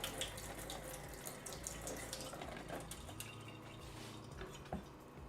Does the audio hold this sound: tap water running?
yes